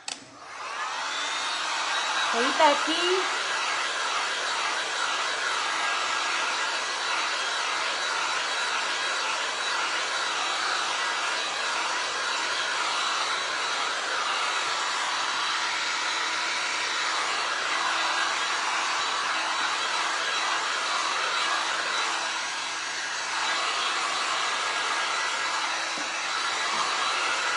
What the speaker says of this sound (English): let's hit it with the dryer. Let's dry this puppy.